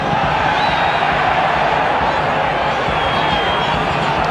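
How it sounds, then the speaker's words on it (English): A boisterous football crowd at a Melbourne Victory versus Central Coast Mariners A-League match roars continuously and loudly, a dense wall of cheering and shouting that fills the stadium, with a commentator's voice faintly underneath. "With this very boisterous crowd behind them."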